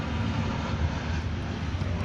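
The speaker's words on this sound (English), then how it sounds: "when the one time I'm recording, there's plane flying over" An airplane passes overhead, a steady broad roar of engine noise that holds even and fairly loud throughout, with no talking.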